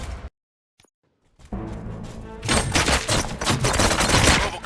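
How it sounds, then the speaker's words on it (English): Bursts of rapid gunfire in the Robocop: Rogue City video game, first a brief quiet then sustained loud volleys and machine-gun fire building toward the end. "Gunshots? What's going on?"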